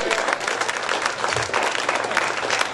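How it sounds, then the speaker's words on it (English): Audience at a live comedy show in Las Vegas applauding steadily, a dense, continuous wash of clapping from a crowd close by, with some cheering voices mixed in throughout. "Give them a round of applause, too"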